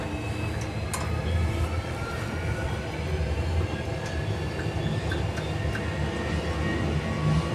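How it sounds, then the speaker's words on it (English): Boeing 737 simulator takeoff roll at takeoff thrust: a steady, loud broadband rumble with continuous low-end roar and faint higher whine, sustained throughout without speech. "I'll show you first a takeoff roll, okay, with all the speed called by the pilot"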